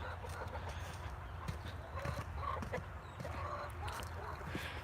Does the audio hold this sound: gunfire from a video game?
no